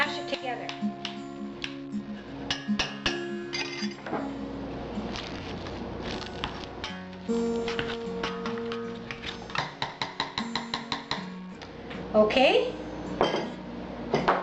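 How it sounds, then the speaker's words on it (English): Stuffed potato filling mashed with salt in a bowl, with repeated clinks and scrapes of a utensil against the bowl in an irregular rhythm, close by, under a voice talking. "And now we're going to mash it together."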